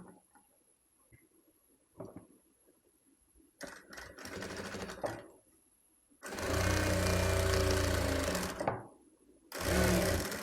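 A sewing machine runs in several loud, steady bursts as it stitches the folded sleeve end of a frock made from an old shirt, with quieter handling sounds between runs.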